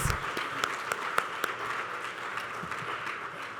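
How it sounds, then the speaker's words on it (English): Scattered applause from an audience thanking sponsors at a community event, moderate and fairly distant, with a few sharper individual claps standing out early before the clapping thins into a steady patter. "So let's give them all a round of applause for continuing to support us."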